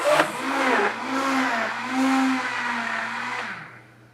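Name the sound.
quick mixing of wet batter ingredients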